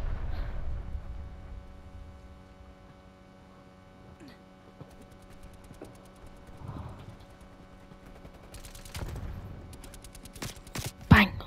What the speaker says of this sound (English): I keep shooting these mannequins.